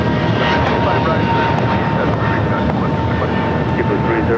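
A jet airliner takes off from runway 25 right at LAX, its engines giving a loud, steady, broadband roar that holds throughout with no pauses.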